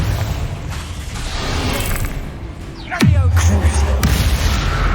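In Hogwarts Legacy, a Confringo spell goes off. A sharp downward-sweeping whoosh ends in a heavy booming blast partway through, and a deep rumble follows over the ongoing game ambience and clatter.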